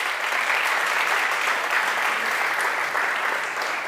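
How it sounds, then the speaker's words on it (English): Steady, dense audience applause at a pitch competition livestream, a full crowd clapping evenly for the whole stretch with no voices breaking through. "Big applause for the Netwokring Premium co-working spaces."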